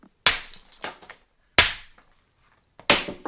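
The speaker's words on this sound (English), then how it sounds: "Those hands were shaping stone tools" Stone tools knapped by hand, with three sharp, loud cracks of stone striking stone, each followed by a few smaller chipping taps, spaced about a second apart and heard alone.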